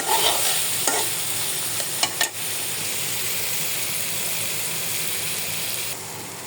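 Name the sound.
meat being heated and stirred in a frying pan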